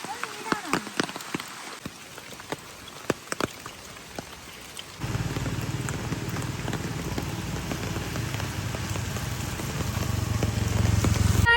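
Scattered drips and taps at first, then a steady, dense rainfall sets in and grows heavier toward the end, in misty, windy Vagamon, Kerala, with no talking.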